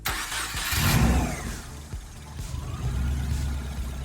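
A 2009 Subaru WRX STI with a swapped engine cranks and fires up, settling into a loud, rough idle with a rev swell and steady low rumble close by.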